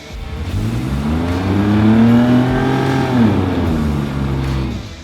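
An off-road vehicle with a DeLorean engine revs loudly nearby, pitch rising and holding, then easing down, a rough throaty growl with no talking.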